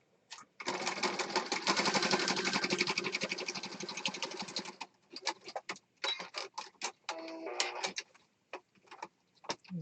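A sewing machine stitching mixed media fabric: a steady buzzing run of fast stitches for about four seconds, then shorter start-stop bursts of stitching with small clicks, close and fairly quiet with no talk.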